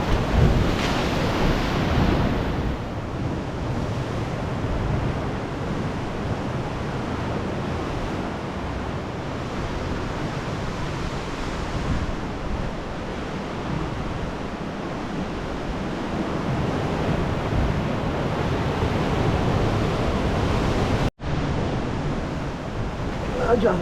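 Ocean surf crashing against coastal rocks on a rock traverse between beaches, a loud continuous roar of breaking waves with heavy wind buffeting the microphone and a brief dropout near the end.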